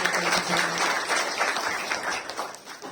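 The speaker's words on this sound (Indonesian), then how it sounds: "Tepuk tangan untuk Tuhan" A church congregation applauds during a worship service, giving a brief burst of steady, moderately loud group clapping that carries on evenly without a break.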